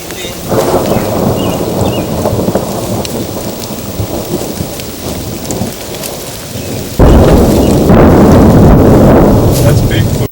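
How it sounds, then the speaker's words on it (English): Heavy rain pours steadily outdoors while thunder rumbles deep and loud, and the downpour swells abruptly louder partway through, with people talking briefly under the storm. "here comes the rain"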